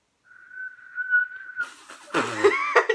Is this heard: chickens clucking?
no